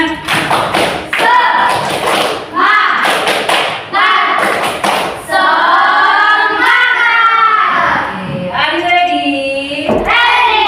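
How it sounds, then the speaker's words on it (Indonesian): A teacher leads the rhythmic Indonesian spirit clap, tepuk semangat, with bursts of hand claps in a set pattern alternating with her chanting voice, close and loud. "sebelumnya tepuk semangat."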